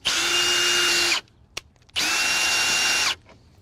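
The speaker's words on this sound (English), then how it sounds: "You have to put a little bit of torque on the wrench, of course, or on the drill, but seems to lift the trailer without any effort." Power drill fitted with a 3/4 inch socket adapter cranks the nut of a Coachmen RV trailer jack, running loud and steady in two long bursts with a short pause and a click between them.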